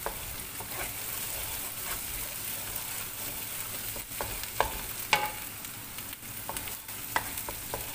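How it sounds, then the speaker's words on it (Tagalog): Onion sizzling and frying in a pan for chicken curry, a steady close crackle with scattered sharp pops and light scraping, no voices. "Fried mo na ang onion."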